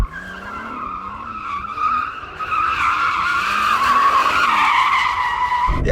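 Sports car drifting in two-wheel drive mode on a track, a long rising tire squeal over engine drone that builds in intensity, close and loud with no talking.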